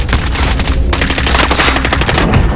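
Sustained automatic gunfire in Call of Duty: Warzone, a dense, loud burst of rapid shots rattling continuously for a couple of seconds with no pauses.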